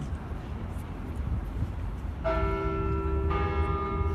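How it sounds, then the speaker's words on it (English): A church bell strikes with a bright, sustained ringing tone, sounding twice over steady outdoor crowd murmur at a youth charity run launch. "Bell's right on time."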